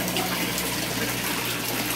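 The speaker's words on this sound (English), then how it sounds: "I'm gonna go back to the water." Water splashing and rushing at a waterfall in a video game, a steady full gushing wash that continues without a break and stays close.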